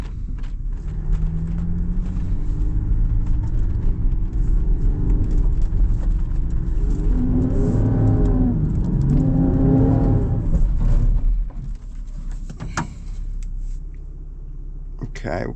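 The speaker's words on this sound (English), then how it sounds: "That's full throttle. And it's just spinning the wheels too much." A 2025 Land Rover Defender 110 D350 roars at full throttle off-road with its wheels spinning, a loud steady engine rumble that drops away near the end, with a voice briefly over it midway.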